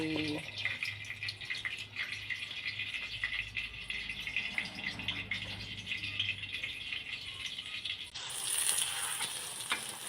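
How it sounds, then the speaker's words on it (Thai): Beaten eggs with cha-om (acacia leaves) and salid flowers frying in a pan, a steady bright sizzle with faint rattling and stirring, rising sharply louder near the end as more goes in. "คือกันกับไข่ชะอม กำลังจะทอดไข่"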